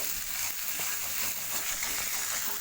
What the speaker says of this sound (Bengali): এবার আমি মশলাটাকে নাড়াচাড়া করছি।